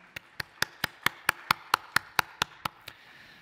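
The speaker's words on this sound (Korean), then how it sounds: "영광의 박수 올려드리겠습니다." Church congregation clapping during a Sunday Christmas-season worship service, heard as about twelve evenly spaced, sharp claps at a steady rhythm, fairly close and clear with no talk.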